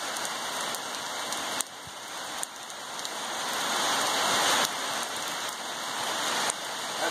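Steady rain patters on a surface, a dense, even hiss of drops with no voices, shifting slightly in intensity over several seconds.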